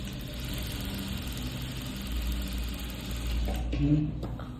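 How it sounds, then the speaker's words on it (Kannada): A sewing machine hems the front of a blouse with a steady, fairly quiet whirring run that stops abruptly near the end, followed by a couple of faint handling clicks. "ಫ್ರಂಟಲ್ಲಿ ನಾನು ಹೆಮಿಂಗ್ ಮಾಡ್ತಾ ಇದ್ದೀನಿ"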